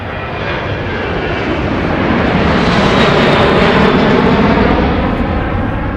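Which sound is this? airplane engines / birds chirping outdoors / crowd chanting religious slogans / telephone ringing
airplane engines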